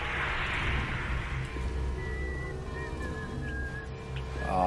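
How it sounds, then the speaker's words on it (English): Eerie, faint whistled notes drift over dark, rumbling ambience in the video game BioShock, rising and falling as a thin melody through the second half. "I hate that whistling. So creepy."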